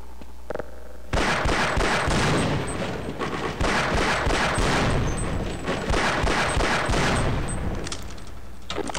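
Dense, loud gunfire and booming blasts from the Half-Life video game's Surface Tension chapter as a tank is attacked, continuous rattling shots and impacts with no talk.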